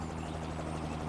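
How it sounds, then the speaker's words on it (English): Helicopter arriving at an emergency scene beside a swamp, a steady dense rotor and engine roar that fills the whole moment at moderate distance. "The helicopter came there,"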